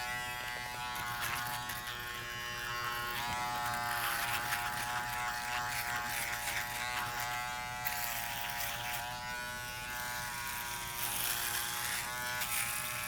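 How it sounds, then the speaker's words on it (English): An electric trimmer buzzes steadily and close up while trimming a beard in a barbershop, its continuous whine holding for the whole stretch with slight shifts in pitch as it moves through the hair. "You trimming up this beard."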